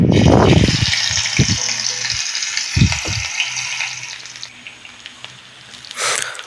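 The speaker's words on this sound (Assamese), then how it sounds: "ইফালে কেৰাহীত তেল দিয়ে দিছোঁ, তেল গৰম হৈছে। এতিয়া পিঁয়াজখিনি দি দিলোঁ।" Onions dropped into hot oil in a wok, a loud sputtering sizzle at first that settles into a steady, fainter frying hiss, with a few scrapes and a clatter near the end.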